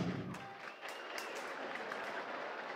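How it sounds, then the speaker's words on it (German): A big concert crowd at a show in Erfurt claps softly: a faint, even patter of many hands with a few sharper claps standing out, heard from a distance with no voices on top. "Ruhig klatschen!"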